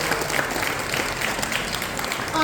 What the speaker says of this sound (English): It's a round of applause for Danny and for Zuli